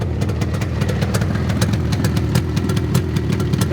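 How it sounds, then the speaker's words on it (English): A 1971 Suzuki T500R Titan two-stroke 500cc motorcycle idling, its exhaust giving a loud, close, rapid popping burble that stays steady throughout. "Listen to the exhaust note on this thing."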